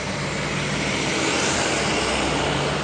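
Honda PCX 160 scooter engine fitted with a Daytona racing exhaust, a loud, steady, close-up roar that holds without a break for the whole moment.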